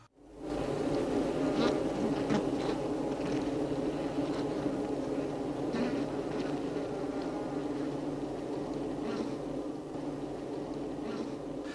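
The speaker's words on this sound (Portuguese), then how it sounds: "Impacientemente as abelhas esforçam-se para entrar na colmeia" Honeybees buzzing at the entrance of a hive, a continuous busy hum of many bees with occasional closer wingbeats passing by, steady and moderately loud.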